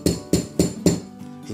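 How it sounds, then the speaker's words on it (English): A hammer taps an Allen wrench set into the rear sight of a Steyr L9 A1 rifle, four crisp evenly spaced metallic knocks followed by a fainter fifth, close and clear with no talk. "So I'm going to help it a little bit with a hammer"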